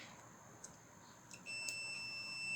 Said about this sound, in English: I set my multimeter to the buzzer